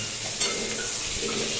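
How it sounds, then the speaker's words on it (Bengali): Long beans and potatoes stir-frying in a pan, a steady close sizzle with occasional scraping and clinks of a utensil against the pan, heard alone without talk. "এটা লাল লাল করে ভাজা আমার হয়ে গেছে বরবটিগুলো আর আলুটা"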